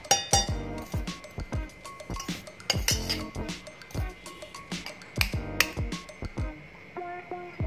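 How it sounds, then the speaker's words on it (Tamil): A spoon mixes biscuit cake batter in a bowl, giving a steady run of light clinks and taps against the bowl's side, close and clear with no talking. "நல்லா மிக்ஸ் பண்ணிக்கலாம்."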